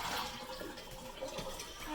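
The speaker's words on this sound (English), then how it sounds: "Pour out the water." Water pours and splashes out of a pressure cooker in a steady, continuous gush lasting about two seconds, moderately loud and close by.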